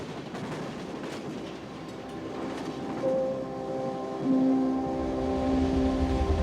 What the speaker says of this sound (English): a 10-hour train ride felt like a different experience